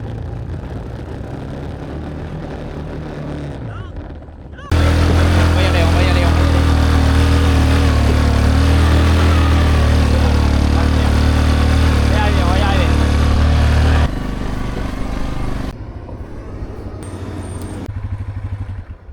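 A quad bike engine running with a loud, steady mid-pitched drone that drops away partway through, while people talk over it.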